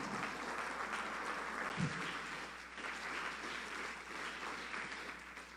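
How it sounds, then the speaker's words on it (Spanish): Sustained congregation applause at a Spanish-language church service, a steady broad wash of clapping that holds evenly for several seconds without letting up. "Dale un fuerte aplauso al Señor."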